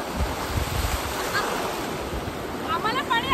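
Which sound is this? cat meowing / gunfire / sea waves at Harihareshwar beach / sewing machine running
sea waves at Harihareshwar beach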